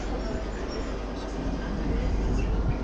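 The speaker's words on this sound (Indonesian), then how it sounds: "Saya sekarang sudah berada di dalam kereta api Wijayakusuma eksekutif" Steady rumble and rattle fill the interior of a Wijayakusuma executive-class passenger train carriage in motion, a continuous low drone with faint clatter.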